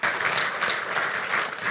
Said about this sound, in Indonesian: Boleh minta tepuk tangannya Bapak Ibu sekalian?